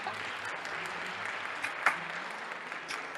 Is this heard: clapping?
yes